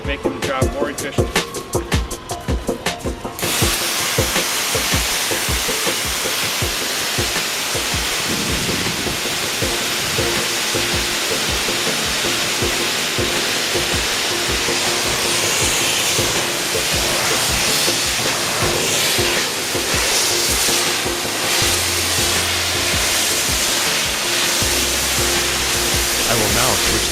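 A brushless two-step truck wash machine sprays soap and rinse water in a loud, continuous broadband hiss that rushes on steadily after some initial clattering, with a voice talking faintly under it.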